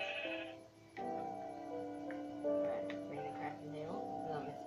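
Minecraft sheep bleat several times in a Xbox 360 game, short wavering cries that come close and clear, one after another, along with game sounds and a voice talking.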